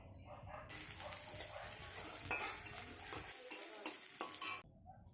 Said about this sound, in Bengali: সবজিগুলো দিয়ে দিলাম, সব সবজিগুলোই একসাথে ঢেলে দিলাম